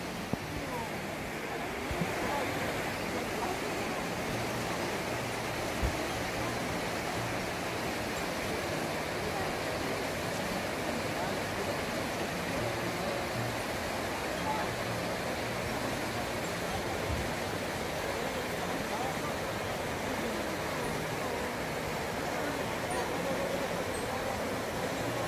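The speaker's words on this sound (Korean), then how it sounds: "폭포 길이가 어마어마합니다" Ojang Falls in Jeongseon, a very tall waterfall, pours down with a steady broad roar that holds constant throughout, sounding like distant rushing water with no voices.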